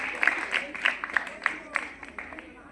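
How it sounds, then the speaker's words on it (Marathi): An audience at the centenary celebration of Rameshwar High School in Mithbav claps to welcome the Lele family, with loose, uneven bursts of applause that stay moderately quiet and thin out toward the end. "या लेले परिवाराचं आपण जोरदार टाळ्या वाजवून स्वागत करूया."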